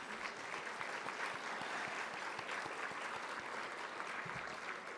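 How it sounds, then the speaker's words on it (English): An audience of young scientists at a research conference plenary session applauds steadily, a dense wash of many hands clapping at an even level throughout, with no voices standing out. "I want you to start by giving yourselves a round of applause."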